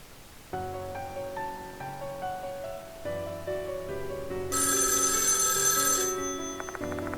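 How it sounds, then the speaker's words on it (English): A telephone rings in the video game Death Mark II on arrival at a mansion at night, a steady electronic ringtone sounding continuously over a tonal game soundtrack, with a brighter burst partway through. "As I arrive at the mansion, the phone rings."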